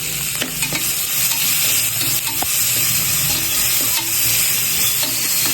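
Ginger garlic paste and mint leaves sizzle and fry in a pan while being stirred, with a steady hiss broken by scraping spoon strokes for a Tamil country chicken pepper gravy; close and continuous, no talking.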